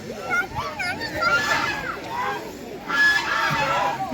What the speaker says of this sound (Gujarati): જો બતક છે હો. બતક છે.